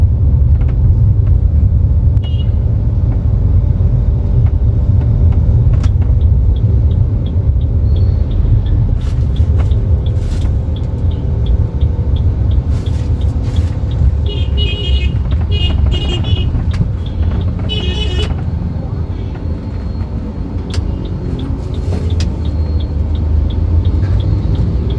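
Toyota Urban Cruiser Hyryder Neo Drive cruising on a highway, a steady loud low-frequency road and engine rumble inside the cabin throughout, with faint intermittent clicks and ticks above it.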